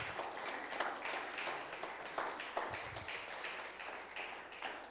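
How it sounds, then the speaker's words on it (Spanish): A church congregation applauds during a Spanish-language sermon, a dense wash of clapping that swells and dips for several seconds at moderate volume, with a few sharper claps standing out. "¿Le puedes dar un aplauso al Señor?"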